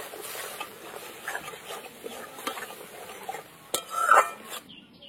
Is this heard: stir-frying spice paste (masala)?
yes